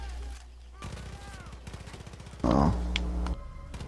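Gunfire from an unsilenced gun in Far Cry 5 erupts as a loud, dense burst partway through, following a stretch of quieter in-game rumble and faint voice-like sounds.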